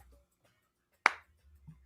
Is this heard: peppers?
no